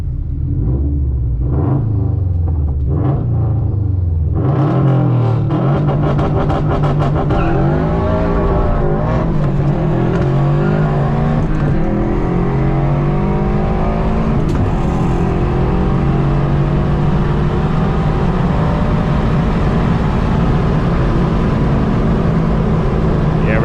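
A flex fuel Subaru WRX STI launches down a quarter-mile drag strip against a Volkswagen 1.8T. The engine is loud and close, with a heavy rumble and rising revs through repeated gear changes, and the roar holds steady throughout.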